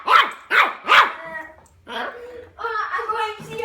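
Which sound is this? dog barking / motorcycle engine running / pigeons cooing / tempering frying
dog barking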